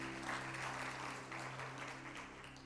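A church congregation at a student worship service claps in faint, steady applause that lasts throughout, over a low sustained hum.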